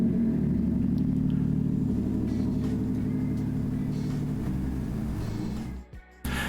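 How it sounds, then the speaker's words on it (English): A truck passes close by on a road, its engine a steady loud rumble that holds for several seconds and then cuts away abruptly. "Okay, we'll give that truck a second."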